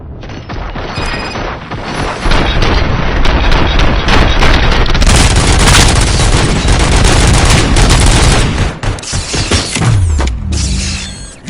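Sustained heavy gunfire and mechanical clatter in RoboCop: Rogue City, a loud, dense barrage running nearly twelve seconds with rapid shots, booms and ratcheting, with no voices.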